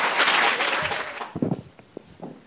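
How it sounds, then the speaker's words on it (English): An audience at a University of Amsterdam panel discussion applauds loudly, a dense burst of clapping that thins out into a few scattered claps and fades within a couple of seconds. "Please give her a warm applause."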